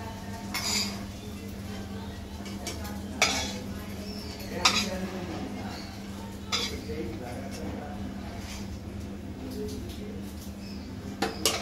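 Fried prawns are lifted out of a pan with metal utensils, giving a few sharp clinks and scrapes scattered over a low steady kitchen hum, close and moderately loud with gaps between the hits.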